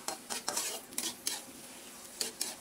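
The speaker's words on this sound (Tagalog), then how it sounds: "Haluin lang po natin mabuti" Buttered shrimp being stirred in a pan with garlic and butter, a series of close scraping, clattering utensil strokes at an irregular rhythm over a soft sizzle, with no talking.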